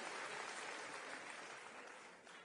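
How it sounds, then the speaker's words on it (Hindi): Faint, subdued applause from a crowd at a Delhi Chief Minister's cleanliness address, a soft steady wash of clapping that stays quiet and tapers slightly toward the end. "तालियां धीमे है भाई"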